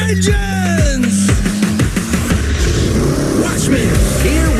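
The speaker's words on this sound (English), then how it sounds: "Drivers, start your engines!" Race car engines fire up and rev at South Boston Speedway, loud overlapping roars rising and falling in quick bursts close by, with crowd noise and voices behind.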